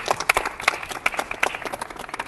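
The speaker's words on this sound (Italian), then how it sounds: "Un applauso." A small group applauding at a signing ceremony in Palermo, brief dense clapping with sharp individual claps close by, fairly quiet overall.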